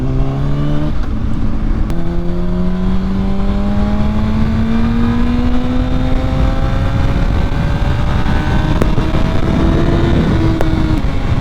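A 2006 Honda CBR1000RR motorcycle accelerating on a highway, its engine pitch climbing steadily through long pulls, with a brief gear change early on and steady loud wind and road roar throughout.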